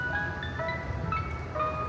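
An ice cream truck's tinkling chime melody plays along a street with shops. Thin, bright notes carry over a continuous rumble of outdoor and traffic noise, with no voices.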